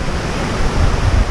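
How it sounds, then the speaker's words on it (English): Rushing stream water after heavy rain in the Scottish Highlands near Ben Hope, a loud, steady broadband roar of cascading water with no voices. "It's a fair water coming down there."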